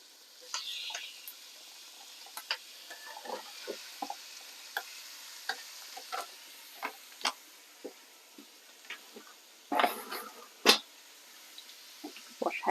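Lamb mince browning in a pan, a faint steady sizzle under sharp, frequent scrapes and clicks as a spatula breaks up the meat, with a louder clatter near the end.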